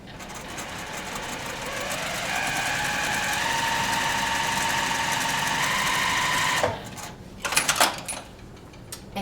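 A sewing machine runs a seam on a necktie in one steady, close, loud stretch for most of the clip, then stops and gives way to a few quiet handling knocks.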